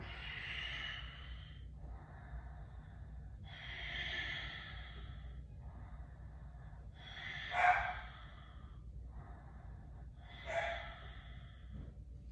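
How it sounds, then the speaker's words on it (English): A person breathes in and out during a core exercise, with several slow, close, soft breaths in a steady rhythm, some sharper exhales standing out, and no talking. "I'll breathe in, and then I'm breathing out"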